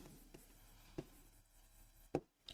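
Pen or chalk writing a short sentence by hand for a grammar lesson, faint scratchy strokes with a few soft taps, quiet and close, no talk.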